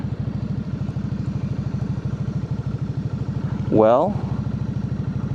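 KOVE 625V Lancer cruiser motorcycle rolling at walking pace, its engine chugging in a steady low idle-like pulse throughout, with a brief voice breaking in near the end.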